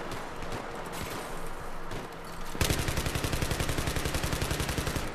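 In Battlefield 3 Gun Master on Ziba Tower, an AUG rifle opens up halfway through with a rapid, even string of loud automatic shots after a stretch of quieter in-game ambience.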